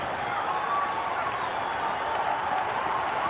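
Cricket crowd at Kingsmead cheering and applauding after a six into the stands, a steady broad roar of many voices and clapping filling the whole moment at close, even loudness.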